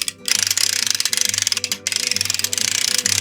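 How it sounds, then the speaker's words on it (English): A boat winch ratchets as it pulls a boat in, giving loud, rapid clicking bursts in a steady rhythm, with two brief pauses and a low mechanical drone underneath. "doesn't the winch sound great?"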